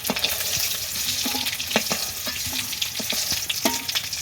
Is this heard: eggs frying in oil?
yes